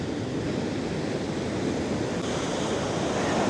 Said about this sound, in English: It's ripping up some big waves there, just a couple of 100 yards out.